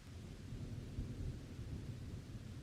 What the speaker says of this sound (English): I can hear the rain